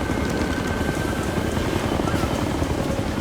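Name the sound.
helicopter in the video game Ghost Recon: Future Soldier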